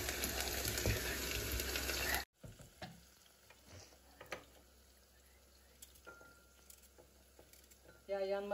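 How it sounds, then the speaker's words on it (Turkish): Carrots hit hot oil in a pot with a loud sizzle at first, then quieter scraping and stirring clatter, and the frying swells again at the end. "Havuçlarımı önce biraz yağda çevireceğim."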